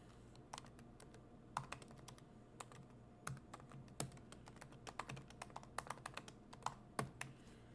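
Light, irregular keystrokes on a computer keyboard, quiet and close, tapping in uneven bursts with a few sharper clicks and no voice.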